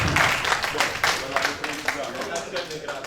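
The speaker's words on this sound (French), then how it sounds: "On applaudit très fort." An audience in a hall applauds after an archbishop's address at a university event, a steady wash of dense clapping that stays loud across the whole stretch with some crowd murmur mixed in.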